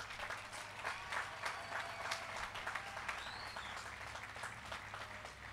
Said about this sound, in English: let's celebrate those students with one more loud applause for the class of 2021